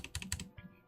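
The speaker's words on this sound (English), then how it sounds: "Let me just type you" Close, quiet typing on a computer keyboard, a quick run of several distinct key clicks with no talking over them.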